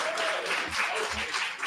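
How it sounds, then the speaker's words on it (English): Audience at a launch party clapping, a brief continuous patter of applause with a steady, even texture throughout. "Let's have another round of applause"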